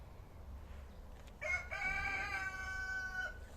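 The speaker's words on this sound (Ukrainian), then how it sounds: "обожнює спів півників і кокання курочок" A rooster crows once nearby, a clear, drawn-out call rising above a low background rumble in a garden setting, alone without speech.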